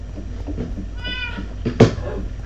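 Cats in the Minecraft video game meow a few times, a short high harmonic mew near the middle and a sharper louder meow toward the end, over low game background noise.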